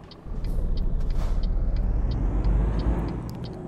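A truck engine in Euro Truck Simulator 2 cranks and catches, settling into a steady low diesel rumble, with a short rhythmic ticking like a turn signal clicking over it.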